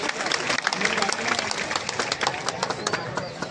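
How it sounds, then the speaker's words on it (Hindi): Guests on stage and townspeople applaud at a town council development event. Dense clapping fills the clip with a crowd murmur and voices mixed in. "वो ताली की गड़गड़ाहट से पूरे नगर के वासियों का स्वागत करें"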